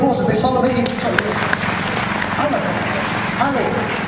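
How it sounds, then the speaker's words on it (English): A big round of applause at a live gadget show as audience members head to the stage, loud sustained crowd clapping with a presenter's voice and other sound running underneath. "give a big round of applause as they follow me"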